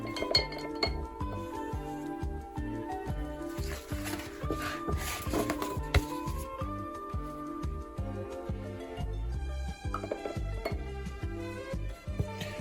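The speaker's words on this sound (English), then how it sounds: "Rinse out my brush and grab some of this blue." A paintbrush swished and tapped in a glass jar of rinse water, with repeated bright clinks of bristles and handle against glass and faint sloshing, close and busy throughout.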